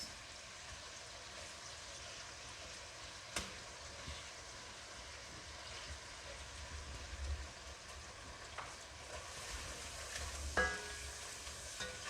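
Onions soften in a pan over lowered heat, giving a faint, steady sizzle with a few soft clinks and utensil taps; quiet and close, with no talking.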